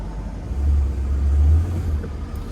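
A 1974 Pontiac Grand Prix engine rumbling low and smooth as the car accelerates on the road, the deep drone swelling in the middle and easing off, heard from inside the car with no talking.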